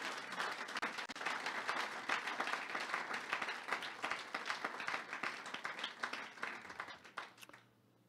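A church congregation at a worship service applauds, with dense steady clapping from many hands filling the room for several seconds before fading out.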